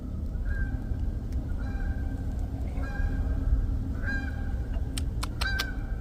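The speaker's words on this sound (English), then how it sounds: "Goose." A goose honks repeatedly in short, evenly spaced calls, moderately distant over a steady outdoor background rumble in the woods at a campsite, with a few sharper clicks near the end.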